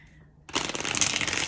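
Tarot cards are shuffled close up, a sudden dense riffling flutter that starts after a short quiet moment and continues steadily to the end.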